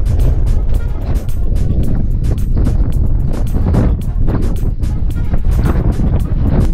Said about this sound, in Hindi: बहुत तेज़ हवा चल रही है, आंधी तूफान आ रखा है